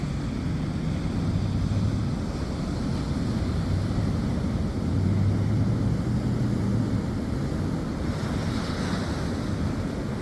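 Waves breaking in a muddy gully, heard from a boat at sea: a continuous loud wash of surf with heavy wind buffeting the microphone throughout.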